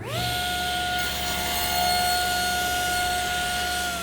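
A power saw cutting wood for a TV stand in a workshop, a steady high tonal whine with a grinding cutting rasp running continuously and close.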